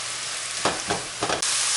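Ground meat with onions fries on medium-high heat, a constant close sizzle with a few louder stirring bursts across a short stretch.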